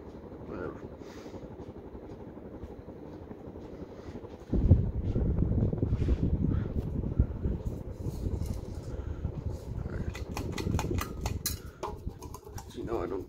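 A brown 52-inch 1988 Hunter Original ceiling fan runs with a steady airy whoosh. Around a third of the way in, the whoosh jumps up and then holds at a louder, rougher level with faint clinks on top.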